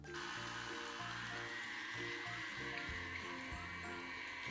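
A stand mixer beating pastry dough after liquids are added, a faint, continuous motor whine with a low churning rhythm underneath.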